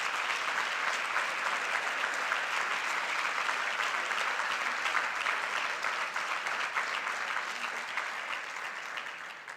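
Sustained, dense applause from an audience at an education awards ceremony, loud and steady throughout with a slight taper at the end.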